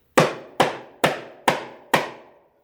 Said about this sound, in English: I take my mighty hammer and I hit this thing 5 licks